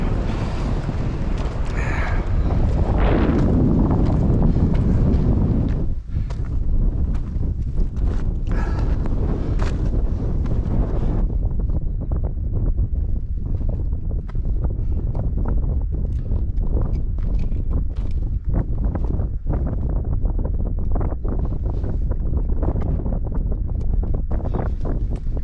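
Strong wind roars and buffets the microphone on a mountain hike near 3,000 meters in bad weather. The rumble is loud and continuous throughout, with no talking.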